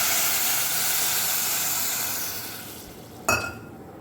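Water poured into fried rice in a pot sends up a loud, steady hiss of steam that gradually fades over a few seconds, followed by a single sharp clank of metal.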